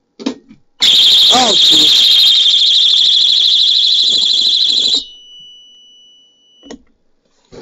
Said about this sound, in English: It's probably going to go back into alarm